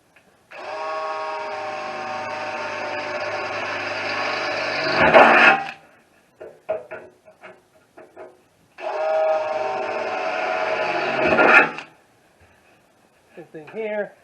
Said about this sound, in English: So let's drill that first.